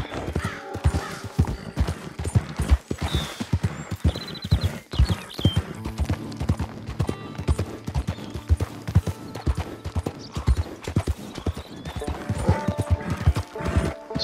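Horse hooves clip-clop in a steady, close trotting rhythm in the video game Detroit: Become Human, with an occasional whinny breaking through the repeated hoofbeats.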